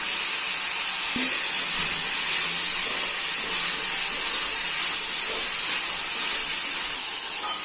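Dried red chillies frying in hot oil for vendhaya kuzhambu, a dense, continuous sizzle and spatter holding steady and loud throughout, with no voices over it.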